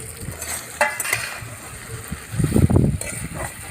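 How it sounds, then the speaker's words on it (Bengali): Fried fish roe fritters are tipped into sizzling cooked-down masala and stirred in a pan, with a soft scrape and clatter of a spoon and a louder burst of sizzle and stirring late on. "এবার মাছের ডিমগুলো ভাজা ছিল সেটা দিয়ে দেবো"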